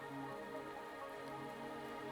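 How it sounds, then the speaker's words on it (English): Steady rain falling in the video game Wuthering Waves, a soft continuous patter of drops with faint tonal music underneath and no talk. "Are you trapped here by the rain?"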